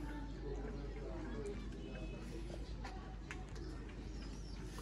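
Pure Ferozpuri pigeons coo softly at close range over a constant low hum, mixed with faint background chatter.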